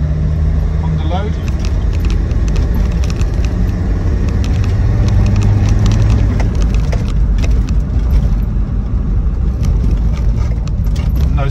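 Land Rover Defender 90 TD5 diesel engine pulling uphill under load, a steady loud drone from inside the cab with road and rattle noise, while someone talks over it.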